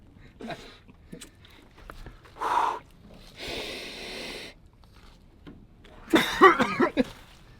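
Close, breathy bursts of air, ending in a harsh, chesty cough cluster toward the end, with quiet pauses between and no talking.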